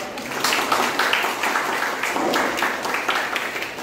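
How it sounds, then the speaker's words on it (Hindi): An audience at an investiture ceremony breaks into sustained applause, a dense, even wash of many hands clapping that holds steady for several seconds. "जरा ताली हो जाए।"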